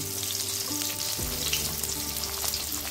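Chopped onion sizzles steadily in hot oil seasoned with cumin and dried red chillies, a loud, close, continuous frying hiss with no talking.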